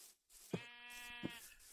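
A single sheep bleats in the blocky game Minecraft, a clear wavering, harmonic baa lasting under a second, heard close and alone against a quiet background.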